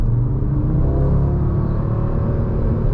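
A 2024 Audi RS3 accelerating hard, its engine a loud, steady low rumble rising slightly in pitch over a few seconds, heard close up with no talking.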